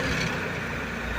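Balkancar forklift with a swapped 417 engine, freshly rebuilt, running steadily at a smooth idle for a brief stretch, close and continuous with no voices.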